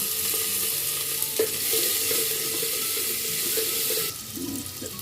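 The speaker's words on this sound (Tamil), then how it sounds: "இந்த முள்ளிங்கிழங்க போட்டுக்குவோம் அந்த எண்ணெயிலேயே." Radish pieces hit hot oil with mustard seeds in a pan, giving a continuous sizzle with stirring scrapes throughout and a brief louder hiss near the end.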